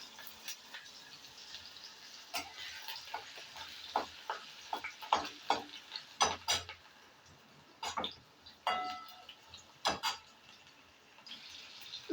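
Potatoes frying in hot oil with panch phoron spices, giving a quiet steady hiss broken by scattered sharp crackles and pops of varying loudness, with no talking.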